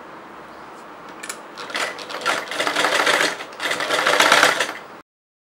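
A sewing machine stitches the side seam of a chudidar in several quick bursts of rapid mechanical clatter that grow louder and denser, close by, with no talking.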